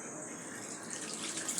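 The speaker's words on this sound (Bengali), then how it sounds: "ভালো করে নেড়ে পরিমাণ মতো ঝোল দিয়ে দেবো।" Liquid is poured into a cooking pan of fish head curry with okra, a soft, close trickle and splash that runs without a break, faint and low in level.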